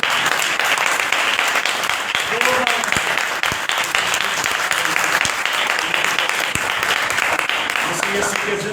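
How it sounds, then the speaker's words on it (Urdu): Loud, dense applause from a seminar audience at a Christian marriage event in Faisalabad, continuous hand clapping filling the room throughout with some voices mixed in. "آئیے خدا کے کلام کے لیے زوردار تالیاں"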